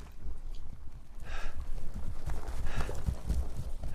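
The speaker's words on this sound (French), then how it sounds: "Oui, il y a un cheval, il y a vraiment un cheval," Horse hooves clip-clop in the video game Silent Hill 2, a steady run of soft thuds over a low ambient rumble, moderately close with no talk over them.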